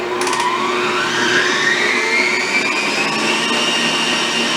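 An electric mixer whirs steadily as it beats cookie frosting, a loud, continuous motor whine whose pitch climbs slightly as the beaters spin up, with no voices over it.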